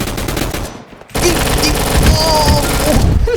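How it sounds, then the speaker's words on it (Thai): Rapid automatic gunfire from an M4/AK-47 rifle in the Roblox game Gunfight Arena, a dense burst of shots that stops briefly and then resumes as continuous loud fire mixed with game sounds. "ปืนของเขาจะกระสุนเร็วมากนะครับ"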